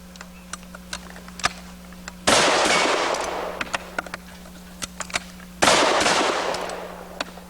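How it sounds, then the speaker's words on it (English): Shotgun shots fired at large targets on a shooting range: two loud blasts with long decaying rumbles, separated by scattered sharp ticks and clicks of handling between them. "now you're going to shoot the 2 large dingers with the shotgun today."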